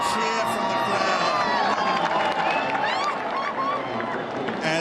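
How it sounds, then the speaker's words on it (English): A large crowd in Federation Square, Melbourne, roars and cheers at a horse racing result. Shouts and whoops rise over continuous loud crowd noise, with voices mixed throughout. "A cheer from the crowd"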